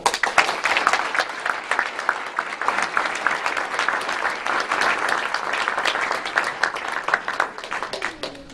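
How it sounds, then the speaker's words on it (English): Audience applause at a formal Person of the Year dinner right after a color guard ceremony, sustained dense clapping from a large crowd filling the room at steady loudness throughout. "Please give them a round of applause."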